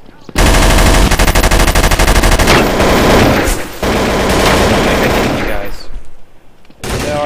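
Rapid automatic gunfire from the video game Counter-Strike: Source on the Inferno map, loud sustained bursts of firing that continue for several seconds with other shots layered in, then fading near the end.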